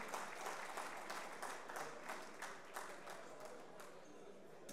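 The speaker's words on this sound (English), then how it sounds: "Please join me in giving them a huge round of applause." Applause at a corporate governance certification ceremony honouring newly certified directors, a faint, distant, rippling wash of many hands with pulsing swells, murmured voices mixed in.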